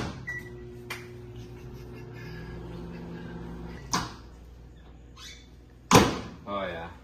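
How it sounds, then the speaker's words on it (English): A low steady hum of a running microwave oven heating peanut butter for several seconds, followed by clicks and thumps like a door opening and closing, close by. "put it in the microwave."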